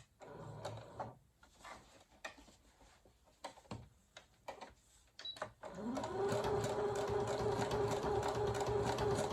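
Sewing machine running steadily to stitch a blanket stitch along the edge of St. Patrick's Day placemats, starting after a few soft handling clicks and then humming continuously, close and fairly loud, with no talk.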